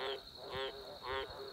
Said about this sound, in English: There's a frog up there somewhere.